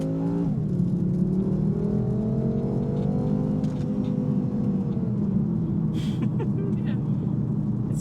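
A 2014 BMW F10 M5 Competition with valved exhaust accelerates from inside, a loud rising engine roar that settles into a steady drone, with people talking over it.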